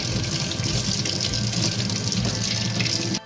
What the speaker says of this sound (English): Now we take this and we dunk it in some water.